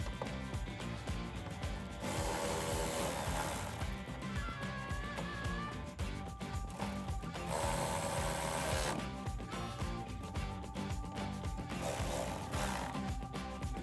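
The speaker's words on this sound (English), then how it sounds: "Then we'll grab our 10mm socket and tighten these down." A 10mm socket ratchet tightening the tail light nuts inside the trunk of a 2015-2019 Mustang, with repeated bursts of clicking ratchet strokes separated by short pauses, close and fairly loud.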